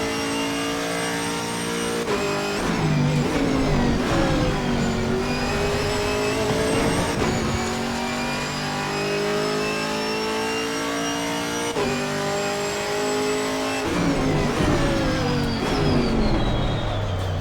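A Camaro GT4 race car engine in a racing video game screams continuously at high revs at Donington Park, pitch climbing and dropping with gear shifts, loud and sustained without any talk.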